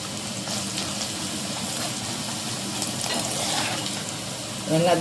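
Garlic frying in oil in a pan for tamarind rice, a steady close sizzle with occasional stirring scrapes and a louder burst of crackle near the end.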